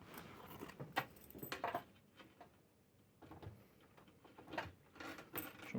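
A bunch of keys, three on the ring, jangles and clinks near the microphone while a lock is being fastened, in short bursts separated by quieter moments.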